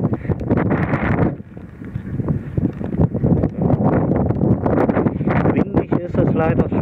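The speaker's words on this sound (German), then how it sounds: "Windig ist es leider schon noch" Gusty wind blowing across an open field after a thunderstorm, buffeting the microphone in loud rumbling bursts while someone talks over it.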